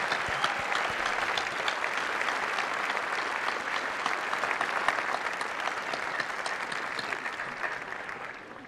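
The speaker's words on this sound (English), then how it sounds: "Please join me in a round of applause" Sustained applause from an audience at a school ceremony celebrating an education center, a dense steady clatter of many hands clapping that continues evenly for several seconds before easing slightly at the end.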